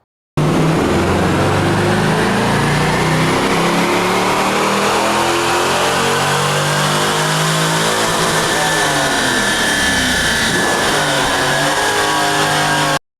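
Car engine revving hard on a dyno at a 12:1 fuel mixture, one loud sustained pull that climbs in pitch, peaks and eases off, running alone for about twelve seconds.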